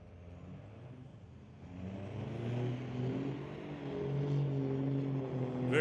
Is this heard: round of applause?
no